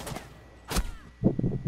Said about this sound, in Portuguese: Ah, tem cara atirando em mim.